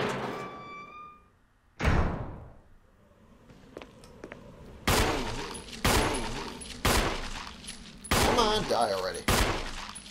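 Gunfire from the Resident Evil HD video game, several loud sharp shots fired in separate bursts with short pauses between them, plus a door-like thud, while a voice mutters briefly.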